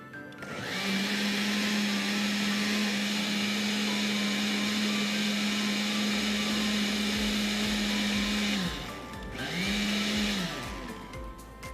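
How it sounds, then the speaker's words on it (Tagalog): A kitchen blender runs loud and steady, blending a milk-based sauce with salt for a Kapampangan dish at a culinary event. A constant whirring drone is cut off briefly, then whirs up again for a short second burst. "Okay, then i-blender lang po natin siya."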